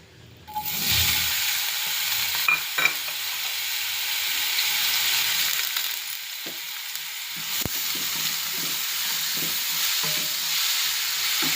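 Grated bottle gourd hits hot ghee in a pan with a sudden loud sizzle, then keeps hissing and crackling steadily while a utensil scrapes and stirs now and then; no one speaks.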